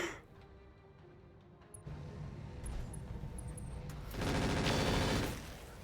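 A mech firing all its weapons in the video game RogueTech, a rising roar of rapid gunfire and explosive blasts that builds to a loud dense burst near the end.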